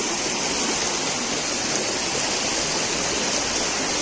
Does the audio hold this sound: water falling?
yes